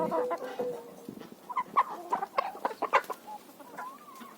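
Several chickens cluck and chatter nearby in short, uneven bursts, fairly soft, with a few higher squawks mixed in.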